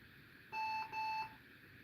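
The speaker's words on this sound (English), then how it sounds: "so we're getting 2 beeps" Two electronic beeps sound during a PC build, a computer POST beep code: a steady tone about a third of a second long, a short gap, then a second matching beep, clear and close over a quiet room.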